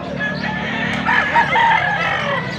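A two-year-old fighting stag rooster crows loudly and close at a bustling market in Angeles, Pampanga, one drawn-out crow over background crowd noise.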